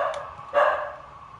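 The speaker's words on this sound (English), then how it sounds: "The dog's going wild." A dog in a home gives two quick, sharp barks a moment apart, fairly close and moderately loud, against a quiet background with no talking.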